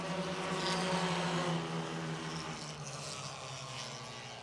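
Stock cars race at Motordrome Speedway in 2006, a continuous roaring engine drone with a steady hum from the pack, heard from a distance with no talk.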